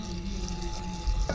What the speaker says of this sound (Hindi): ये हमने डाला ऑयल इसमें। अब इसको हम भूनने पे लगा देते हैं।